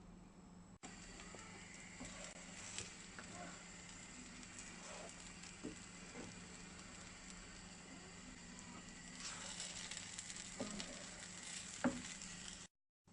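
Vegetable dal kozhukattai dough stirred in a pan: a steady, faint scraping and soft sizzling that runs evenly throughout with occasional small knocks, close and without talk.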